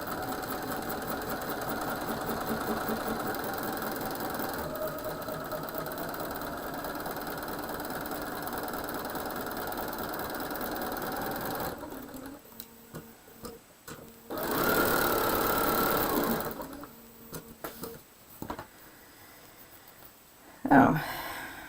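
A home sewing machine stitches a quilt block along a marked line in a steady, close, continuous whir that runs for about twelve seconds, then stops and starts in short bursts with a voice talking in the pauses.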